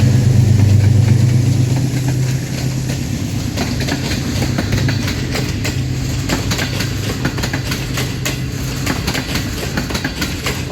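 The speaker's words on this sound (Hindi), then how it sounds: "अभी से इसने काफ़ी पिकअप पकड़ ली है, काफ़ी स्पीड में लग रही है ट्रेन" A train led by a locomotive picks up speed leaving Lahore railway station in intense heat: a loud engine rumble at first, then continuous close wheel-on-rail roar with rhythmic clickety-clack over the joints, no talking.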